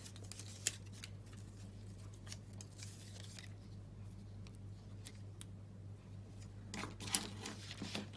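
Faint scissors snipping ribbon straight at a quiet craft table while a holiday treat box is assembled, with a couple of sharp little cuts near the start and again toward the end over a low hum.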